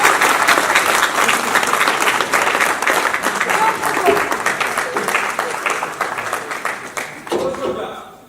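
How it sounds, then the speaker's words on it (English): Youth conference audience gives a sustained round of applause for the youth organizer, dense steady clapping throughout, tapering near the end, with scattered voices in the crowd. "A round of applause for our youth organizer."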